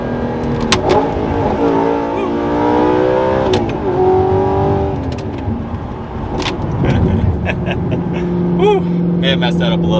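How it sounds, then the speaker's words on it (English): Audi R8 with an Fi exhaust, loud close engine revs climbing and dropping through a downshift rev match, with crackles and a settling idle toward the end, and talk mixed in. "We gotta do one last rev match here."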